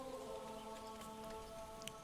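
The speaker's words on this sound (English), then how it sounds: "it starts raining" Steady, soft rain in the medieval city-builder Manor Lords, a constant hiss of falling drops under a low musical drone, with no talking.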